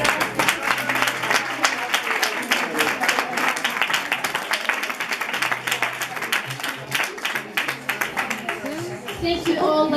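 Audience applause at a traditional dress event honoring women who wore their beautiful dresses, a dense steady clapping crowd filling the whole stretch, loud and continuous, with voices mixed in.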